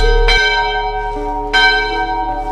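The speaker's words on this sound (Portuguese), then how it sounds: "em noites silenciosas podem ouvir o som de sinos" Church bells ring out with two loud, resonant strikes, each followed by a long shimmering ring that fades slowly.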